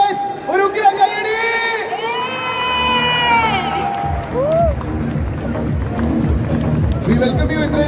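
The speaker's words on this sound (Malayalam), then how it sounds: "ഒരു ഉഗ്ര കൈയടി." Crowd at a shopping mall cheering and clapping as actor Indrajith Sukumaran arrives, loud shouts and whoops with a rising din of voices, amplified announcer talk heard over the noise.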